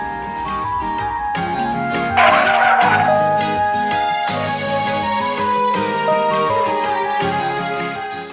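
A motorcycle skids to a halt in a brief gritty, hissing scrape about a couple of seconds in, heard under loud continuous Haryanvi song music.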